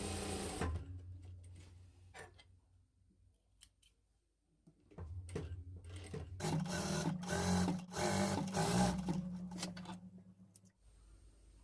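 A sewing machine stitches skirt fabric in short bursts, then settles into a longer steady stitching run with a rapid mechanical rattle and a low hum, close by.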